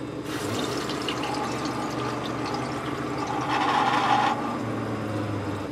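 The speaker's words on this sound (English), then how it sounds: "We should start seeing the water filling up in the..." Water runs and fills a boat's fresh water plumbing after a valve is opened, a steady hissing flow with a brief louder surge midway, close and alone without talk.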